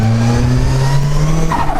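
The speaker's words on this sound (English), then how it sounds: "why is this car broken? Why is it making all these noises like that?" Ford Fiesta fitted with an RS accessory exhaust system, engine revving noisily with a rising and falling drone and rough overtones, loud and close, no voices.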